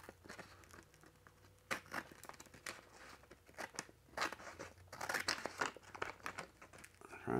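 Vinyl drum wrap is cut with scissors and peeled by hand, a faint, close series of crinkling, snipping and crackling sounds in irregular bursts.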